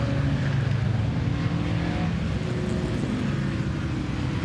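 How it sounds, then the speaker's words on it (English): Red Reliant Sabre 6 race car at a historic motor racing meeting, its engine roaring steadily and loudly throughout as it passes close by, with no talk over it. "The red car flicking through was the Reliance Sabre 6."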